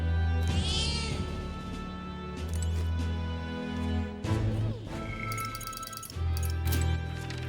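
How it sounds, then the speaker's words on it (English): A cat meowing in the video game Metaphor: ReFantazio, several distinct drawn-out meows separated by short gaps over a steady musical background, with light chiming tones. "That's a good kitty."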